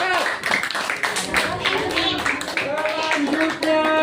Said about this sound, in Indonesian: Kita kasih tepuk tangan untuk kelompok alpukat.